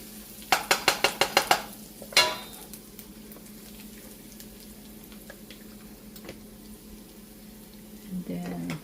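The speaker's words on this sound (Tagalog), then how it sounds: "Bigisan muna natin yung bawang." Garlic sautés in a pan for Filipino palabok, with a soft sizzle running beneath a quick run of sharp utensil clicks against the pan at the start, plus a later clank.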